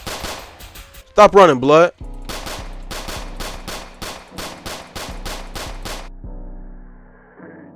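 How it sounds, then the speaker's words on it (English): Gunfire in a Roblox South Bronx hood roleplay game: a quick run of sharp, evenly spaced shots rings out loud and close while players talk over it. "Them boys is over there shooting, brody."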